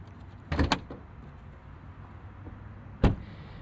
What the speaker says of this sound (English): Let's pop the hood and talk about the business end of this car.